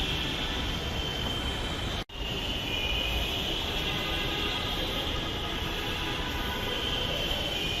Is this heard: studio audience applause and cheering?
no